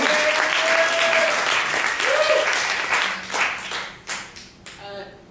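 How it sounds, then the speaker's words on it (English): Audience applause at a book award event, steady and fairly loud across most of the clip, thinning into scattered claps toward the end, with brief voices mixed in. "ladies and gentlemen, a round of applause"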